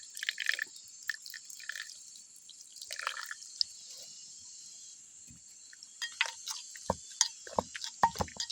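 Boiled water poured into a cooking pot, intermittent dribbles and splashes with a quiet pause in the middle, close and fairly faint.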